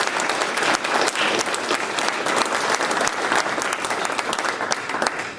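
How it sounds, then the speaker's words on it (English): Loud, sustained clapping fills an awards ceremony hall as the audience applauds a leadership award honoree at a TSA event, a dense crowd clatter with scattered sharper claps throughout. "So if we could, a round of applause for Jason."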